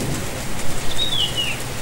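Heavy rain sound effect, a steady hiss of downpour that holds at a fairly strong level with slight swells in loudness, heard alone with no voices.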